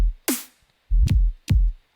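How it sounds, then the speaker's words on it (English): Electronic sweep effect from a future bass production, a bright rising whoosh followed by two deep punchy bass hits, loud and isolated with silent gaps between. "so you have a sweep sound"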